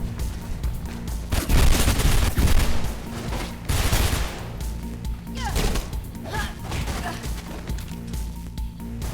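A gun fires in rapid bursts in the Mirror's Edge video game, loud and close, with impacts and clatter in between and a few sharp cracks later on.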